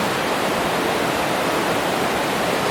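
A river in Snowdonia rushes past at close range, a loud, unbroken broadband roar of flowing water with no pauses.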